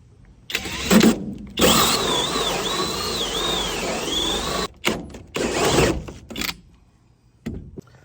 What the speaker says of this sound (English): I'm just going to use this 3-inch bit that I already had out here